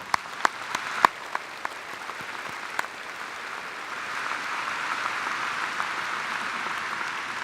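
At Xavier University's 2018 undergraduate commencement, the audience applauds. It opens with a few scattered sharp claps that swell into steady, broad applause from a large crowd, heard from a distance.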